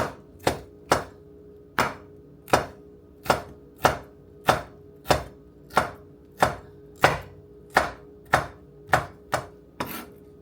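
Bell pepper chopped on a cutting board for ground beef, about fourteen sharp knife strikes in an even, steady rhythm, close and clear with no talk.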